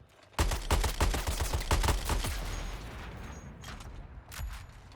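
Rapid gunfire bursts in the PS5 video game Suicide Squad, playing as King Shark, open with a loud volley of fast, evenly spaced shots that thin into scattered, echoing booms and mechanical clatter over about five seconds.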